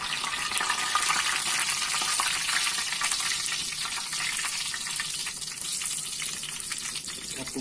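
Hot cooking oil in a pan bubbles and sizzles steadily with dense crackling, fish being fried with bay leaf in the fat, loud and continuous with no talking.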